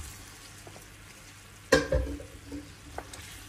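Apple filling for a yufka pastry dessert stirred in a pan, a single close scrape and soft sticky slosh after a quiet start, followed by a few faint clicks.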